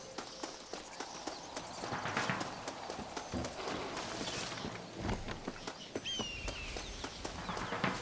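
Horse hooves clip-clop steadily in the Western video game Red Dead Redemption, a continuous walking rhythm of close, crisp hoof strikes over ambient background noise.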